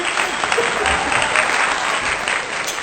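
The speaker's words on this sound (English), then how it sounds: "Insert applause here." Steady applause from a crowd, a dense even wash of clapping held at constant loudness for a few seconds with no voices on top.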